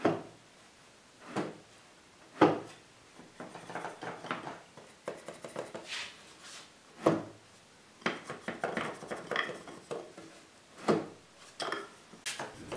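A wooden stop drawer on a handmade Renaissance positive pipe organ is slid and knocked repeatedly, giving sharp close wooden clunks and scraping rattles at irregular intervals in a quiet room.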